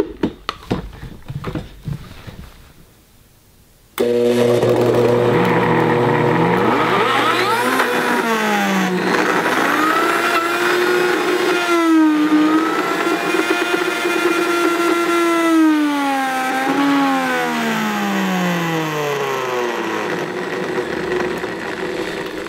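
A Vitamix or Blendtec blender grinds almonds into nut butter, starting after a few seconds of quiet handling noise with a loud, steady motor roar whose pitch slides up and down as the load shifts.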